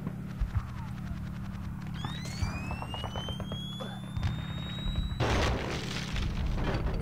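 A character in Conker's Bad Fur Day blows apart into tiny globules of meat amid busy game noise: rising whistling sweeps and rapid ticking give way to a loud, sudden burst that roars on near the end.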